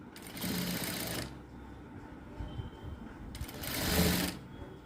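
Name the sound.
sewing machine stitching a blouse seam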